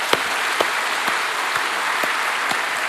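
A church congregation at Sarang Church claps warmly and continuously, a dense wash of applause with a few sharper individual claps standing out near the listener.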